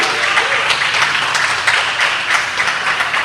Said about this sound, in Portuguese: Vamos aplaudir bem forte a Deus. Mas aplauda bem forte ao Senhor.